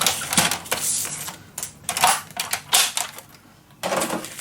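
Paper being cut for a scrapbook mini album, a series of close, crisp snips and crunches in irregular bursts with short pauses between, no talking.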